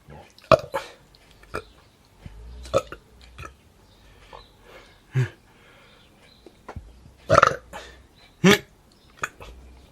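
Several short, throaty burps erupt at irregular intervals, a couple of them loud and close, with quiet gaps between.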